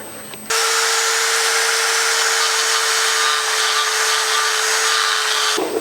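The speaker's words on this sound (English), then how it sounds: "I went back and ground those spots again." A power grinder works on metal on the engine block of a 1967 Chevy Nova, near the oil pan area. It gives one loud, steady, harsh whir with a constant tone for about five seconds, then cuts off abruptly.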